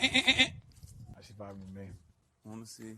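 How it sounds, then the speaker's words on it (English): A goat gives a loud, close bleat of a few wavering pulses at the start, then people talk nearby with the animal quiet. "Goat meal."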